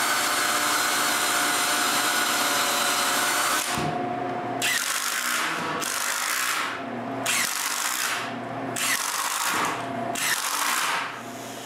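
A power drill bores screw holes in wood for a wooden bandsaw, running continuously at first, then in several short whirring bursts separated by brief pauses, near and loud.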